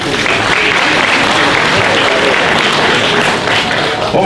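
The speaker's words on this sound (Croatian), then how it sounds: "A vi ćete ga pozdraviti jednim velikim aplauzom." A large audience applauds at a folk and ethno music festival, a loud, dense, continuous wash of clapping from many hands, with no distinct voices.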